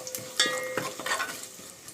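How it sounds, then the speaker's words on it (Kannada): Pulao spices fry in hot oil in a pot for egg biryani, giving a close, steady sizzle broken by a few soft scraping stirs and light metal clinks, with no talking. "ಈಗ ಸ್ವಲ್ಪ ಫ್ರೈ ಮಾಡ್ಕೊಳ್ಳೋಣ ಎಣ್ಣೆಯಲ್ಲಿ."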